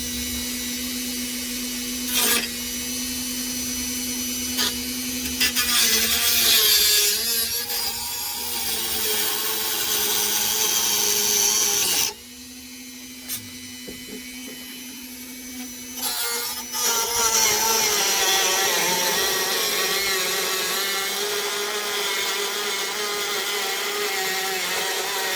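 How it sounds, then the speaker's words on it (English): A Dremel rotary tool cuts into car parts during a teardown, with a high, whining grind that runs in bursts, stops briefly midway, then resumes loud and close. "I think I'm gonna try this with the Dremel"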